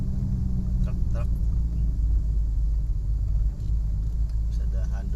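Heavy vehicles rumbling past on Indonesia's Pantura highway, a steady loud low drone of engines and road noise with a voice speaking faintly over it.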